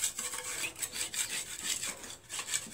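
Scraping dirt off the frame of a Poulan tractor, a steady rhythmic back-and-forth rasping, close up, with no talk.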